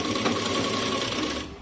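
A sewing machine runs a straight stitch across pleats of a net saree, a steady continuous whir held for well over a second, close up, with no talking.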